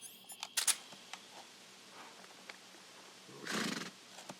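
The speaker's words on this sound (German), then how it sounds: "Das ist ein Pferd. Was macht hier ein Pferd?" In Metal Gear Solid 3: Snake Eater, a horse lets out a short, fairly loud whinny near the end, after a scatter of faint clicks and soft hoof-like taps.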